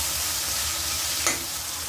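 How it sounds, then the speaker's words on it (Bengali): Prawns coated in salt and turmeric frying in a wok, a steady close sizzle with low stirring rumbles and one brief sharp clink near the end. "এখন আমি চিংড়ি মাছগুলো ভেজে নেব"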